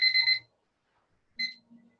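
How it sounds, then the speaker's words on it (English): A kitchen timer being set for 25 minutes while a cake bakes gives a quick electronic beep, then a second shorter beep after a gap. Both are faint and close, with silence between. "We're going to set our little timer here for 25 minutes. I apologize for the sound."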